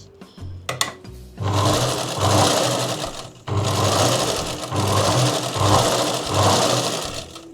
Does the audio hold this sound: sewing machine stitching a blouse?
yes